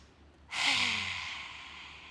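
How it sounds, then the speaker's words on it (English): A deep exhale during a hatha yoga session comes as one long, close, breathy rush of air that starts suddenly and slowly fades. "Breathing in."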